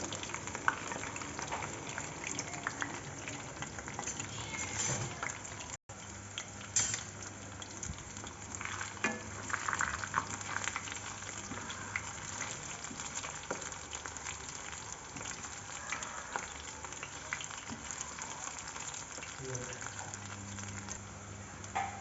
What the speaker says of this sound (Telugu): ఇవి కొద్దిగా సిమ్లో పెట్టుకొని బాగా డీప్ ఫ్రై చేసుకోవాలి